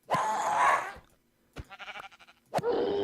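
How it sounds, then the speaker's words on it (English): Minecraft sheep bleating from a modded mob farm, three wavering cries at close range with short silent gaps between them, one of them choppy and stuttering. "We've got a sheep again."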